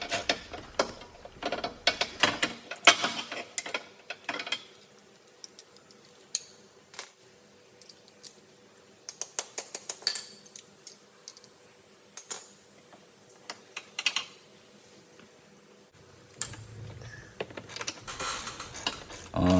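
A socket wrench with an extension and a 14mm socket loosens a bolt on a 2021 Subaru Impreza while an STI flexible draw stiffener is fitted: close, intermittent bursts of rapid ratcheting clicks with short pauses and a few metallic clinks.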